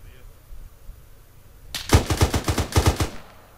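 A rapid burst of about nine rifle shots rings out in Arma 3 during an assault on enemies in windows, loud and close after a quiet start.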